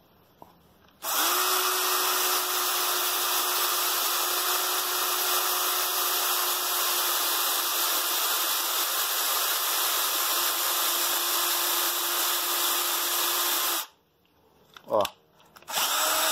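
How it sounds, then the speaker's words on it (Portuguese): A Bosch GSR 180-LI 18V cordless drill bores into wood, whining loud and steady for about thirteen seconds, then stops and gives two short bursts; a voice speaks briefly before it starts. "Vamos ver como é que ela fura uma madeira aqui."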